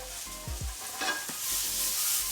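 A dash of butter sizzling in a frying pan for a quick high-protein breakfast, a soft steady hiss with a few low knocks and scraping clatters, close and moderately quiet, no talking.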